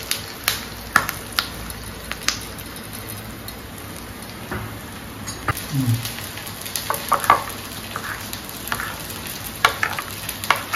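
Dried red chillies fry briefly in hot oil for a tempering in a home kitchen, giving a soft steady sizzle broken by sharp intermittent pops and scrapes, with no talking.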